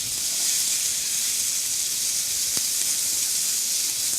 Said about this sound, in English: A little oil. The beef goes in. Has to be hot. Here it's sizzling.